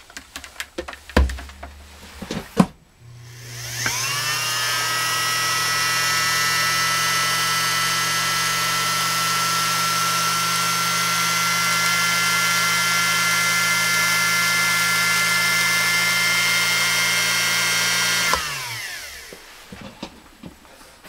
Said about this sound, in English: we're going to go to this original Husqvarna motor on the far side and fire this one up